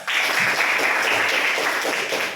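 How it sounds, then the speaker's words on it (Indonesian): A classroom of pupils breaks into a short burst of clapping, dense and even, that lasts a couple of seconds before fading slightly. "Berikan aplaus."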